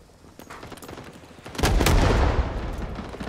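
Machine gun fire in the Vietnam War shooter game Rising Storm 2: Vietnam, heard as dense, rumbling bursts of automatic gunfire that swell suddenly to a loud, sustained roar partway through.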